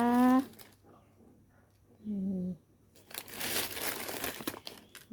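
Crinkling plastic packaging around Isan sausage from Ubon, handled up close in bursts, with a voice speaking briefly before and between the rustles.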